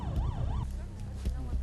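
Wailing ambulance siren in a Ukrainian city under bombardment, sweeping up and down for a moment before fading under low traffic rumble and a brief voice.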